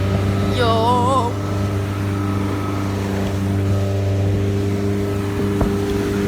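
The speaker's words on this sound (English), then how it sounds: "I'm right by the motor, dude. Oh, dude, we're going fast." Motorboat engine running at full throttle, a loud steady drone with a strong low hum up close near the motor, water rushing underneath and a brief whistling tone early on.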